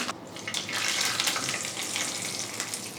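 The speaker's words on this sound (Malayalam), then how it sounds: "രണ്ട് വറ്റൽമുളക് രണ്ട് മൂന്നായിട്ടൊന്ന് കട്ട് ചെയ്തിട്ടുണ്ട് കുറച്ച് കറിവേപ്പില ഈ പച്ചടിയിലോട്ട് ഒഴിച്ചു കൊടുക്കുക" Dried red chilies and curry leaves in hot oil hit tomato pachadi, giving a sharp burst of sizzling that settles into a steady close crackle with no one talking.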